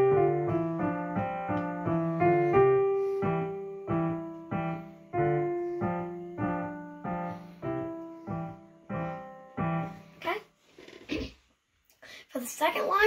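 A piano plays the first line of a beginner tune as steady, evenly repeated chords in a simple rhythm. A breathy voice and other faint noises follow near the end.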